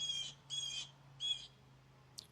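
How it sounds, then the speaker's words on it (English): Birds chirp in three short repeated bursts in the background, fairly faint, over a steady low hum from a distant lawnmower. "You can still hear birds"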